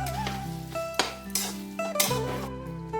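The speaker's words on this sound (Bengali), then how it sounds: "খুব ভালো করে নাড়াচাড়া করে নেব।" A spoon stirs cabbage curry with fish head in a pan, making several distinct clanks and scrapes about half a second apart over a faint sizzle and background music.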